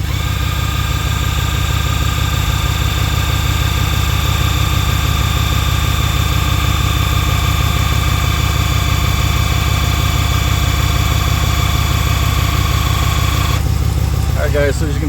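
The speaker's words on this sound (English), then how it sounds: "you probably can hear I started up the truck" A truck engine idles close by in a steady, loud rumble with a constant whine above it, running evenly throughout, with a brief change near the end.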